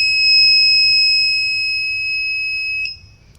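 A neonatal incubator alarm buzzer gives a loud, steady, piercing electronic tone that holds for nearly three seconds and then cuts off abruptly, leaving faint low hum.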